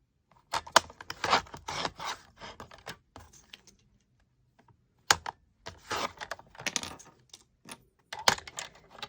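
Sponge strips are snipped with scissors in quick close bursts of cutting and rustling, separated by a pause of near silence, with no voices.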